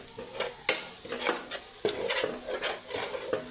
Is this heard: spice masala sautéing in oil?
yes